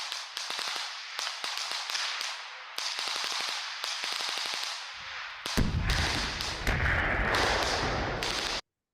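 Gunfire in eastern Ukraine fighting, a rapid series of sharp cracks and bursts in rhythmic volleys, followed by louder, denser rumbling shots near the end.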